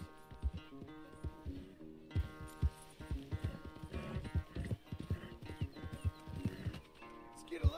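Horse hooves clip-clop in Red Dead Redemption 2, a steady walking rhythm of thudding steps under a soft musical score, with a brief whinny-like sound.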